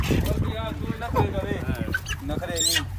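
A crowd of chickens clucks and squawks busily at close range while being loaded into a truck at night, with overlapping calls and occasional louder shrieks, and people talk in the background.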